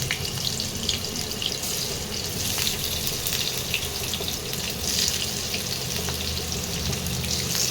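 Parboiled young jackfruit pieces fry in hot oil, producing a dense, loud, rushing sizzle that stays constant from start to finish with faint crackles on top and no talking.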